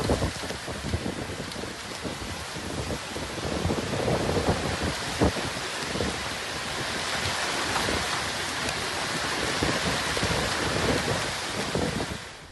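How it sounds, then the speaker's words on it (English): Violent storm in Alicante, Spain, with 100 km/h winds: dense heavy rain roars continuously alongside gusting wind buffeting the microphone, with deep thunder rumbling through the downpour at a steady, loud level. "rapidly spread to different zones with winds reaching 100 kilometers per hour and heavy precipitation, completely paralyzing daily life"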